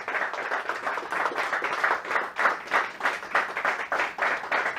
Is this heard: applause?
yes